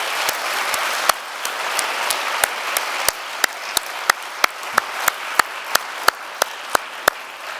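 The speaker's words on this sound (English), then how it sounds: "could we just give him another round of applause?" An audience gives a sustained round of applause for Professor Adrian Hill. Dense clapping fills the room, and a few sharp, regular claps from one person near the microphone stand out above it.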